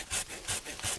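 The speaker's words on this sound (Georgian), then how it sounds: "ვაკეთებ მცირე ჩაჭრას ტოტის ერთი მხრიდან და შემდეგ ვჭრი მას მეორე მხრიდან" Pruning a mandarin tree, a hand saw cuts through a branch: three loud rasping strokes at a steady rhythm, close and with no talk.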